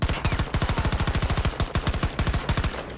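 Rapid automatic fire from a 9mm conversion gun in Battlefield 2042, a steady stream of closely spaced, punchy shots running continuously for about three seconds, loud and close with no talk.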